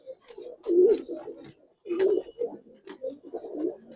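A Giribaz pigeon coos nearby in repeated throaty rolls, several distinct bursts separated by short pauses.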